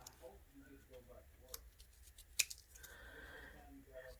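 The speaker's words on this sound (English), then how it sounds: "let's just go on and cut our frame off of this one." Scissors cutting a paper journal frame, with sparse soft snips and clicks and one sharper snap, quiet and close, with faint speech in the background.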